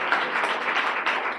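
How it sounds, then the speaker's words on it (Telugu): A church congregation claps together at a Sunday service, a dense, steady burst of applause heard close and without a break. "చప్పట్లు కొడతారు దేవుని కోసం"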